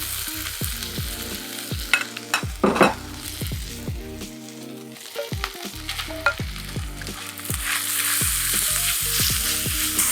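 Chicken stir-fries in a wok for a noodle stir-fry, a loud close sizzle with repeated metallic scraping and tossing strokes, swelling into denser frying toward the end.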